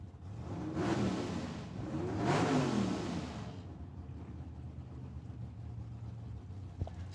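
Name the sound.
drag race cars accelerating down the dragway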